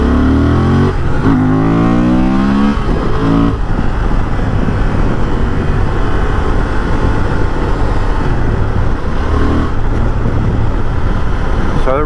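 A Honda Transalp motorcycle's engine revving hard while being ridden, loud and close, climbing through the gears in rising sweeps and then holding a steady drone under wind noise.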